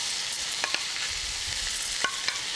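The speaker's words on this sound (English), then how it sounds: "so your lamb chops get a beautiful sear" Lamb loin chops sear in a hot pan, giving a steady close sizzle with a few faint clicks and pops scattered through it, and no voices.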